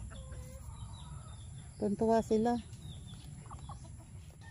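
Chickens cluck softly in the background while scrambling over a banana tree's pith, then a short burst of louder, rapid calls rises near the middle; a brief voice is heard too.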